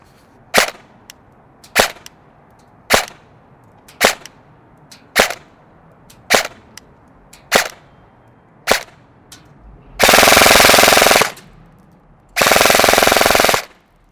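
A Krytac Trident MKII PDW-M airsoft gun shooting 0.20 gram BBs across a chronograph: about ten crisp single shots roughly a second apart, then two fast full-auto bursts, loud and close.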